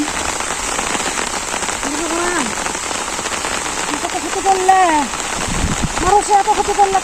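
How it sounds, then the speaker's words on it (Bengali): Heavy rain falls steadily in a village as a loud, even hiss of drops on surfaces, while voices talk briefly over it in the middle and toward the end. "তো দেখি কতক্ষণ বৃষ্টি থাকে"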